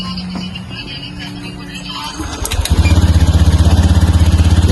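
A motorcycle engine with an ACG starter starts smoothly with a brief whir, then settles into a steady, rhythmic idle close by, loud and even.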